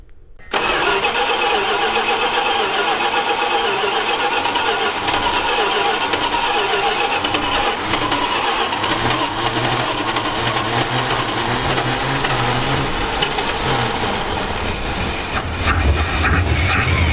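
A Dodge Diplomat with a freshly fitted new carburetor cranks and fires, then settles into a loud, steady idle that runs on evenly nearby with a slight rise near the end.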